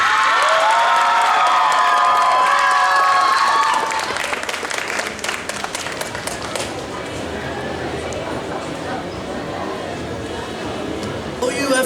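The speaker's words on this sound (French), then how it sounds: "Sous vos applaudissements, Hermès par Everest." Audience at a cosplay contest cheers and applauds loudly, with shouts and whoops over dense clapping that eases into steadier, quieter applause after a few seconds; voices are mixed into the crowd noise.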